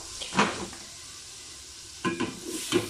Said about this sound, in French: là je fais chauffer mon beurre parce que je vais faire revenir la viande dedans